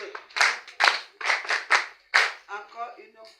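An audience at a masterclass claps in unison, a series of sharp, loud collective bursts in an even rhythm, about eight strokes, with a voice speaking between and after them.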